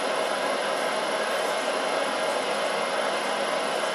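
Grizzly G0752 spindle motor running at a steady, even pitch, a constant broadband whir with a faint high whine, close and continuous with no talk.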